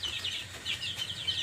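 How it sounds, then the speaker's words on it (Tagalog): Chickens cluck and chirp softly at a distance over a steady low background hum, on a goat-keeping farm. "Ito yung mga manok natin, oh."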